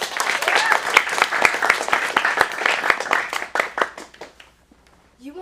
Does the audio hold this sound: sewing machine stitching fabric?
no